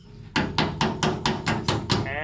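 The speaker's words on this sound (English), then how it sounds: "you need a hammer, or even better, a body hammer." A body hammer taps a bent metal panel on an off-road build truck, seven sharp, evenly spaced metallic blows ringing close up, each with a short decay.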